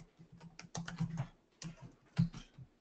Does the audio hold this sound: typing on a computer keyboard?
yes